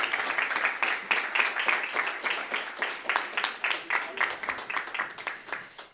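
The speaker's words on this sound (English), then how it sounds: "One more round of applause, please" Applause at a business forum chapter meeting as a memento is handed over, moderate clapping from a seated audience in uneven bursts, with some voices mixed in.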